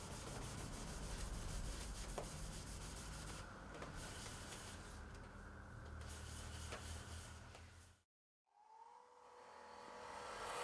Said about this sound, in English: Sand and finish as required.